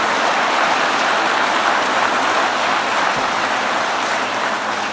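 Audience at a political event applauding the Secretary of Labor, a loud, sustained wash of clapping with no gaps, close and even throughout.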